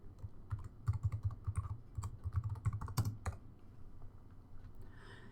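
Fast, irregular clicking of computer keyboard keys while an announcement is typed, close and fairly loud, easing off toward the end.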